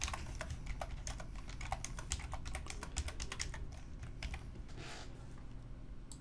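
Typing on a computer keyboard while filling in a web form, a quick irregular run of soft close keystroke clicks, quiet and alone with no talk.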